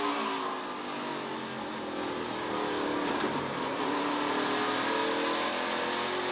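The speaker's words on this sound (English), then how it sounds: "I love these views from on board, listening to him work the throttle" NASCAR Truck Series engine heard from on board at Martinsville Speedway, revving steadily as the driver works the throttle, a loud continuous drone with shifting pitch and no talk.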